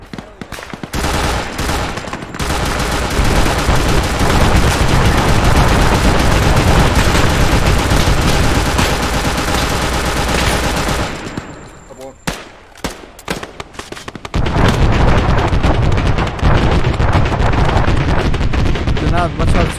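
Heavy Arma 3 battle gunfire rages almost without pause, dense rapid shots and booms packed together, then breaks into scattered cracks before the fire swells again. Voices can be heard under the din.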